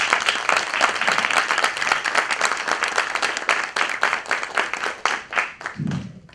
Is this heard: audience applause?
yes